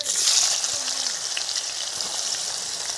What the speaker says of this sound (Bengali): এখন দিয়ে দিচ্ছি পেঁয়াজ।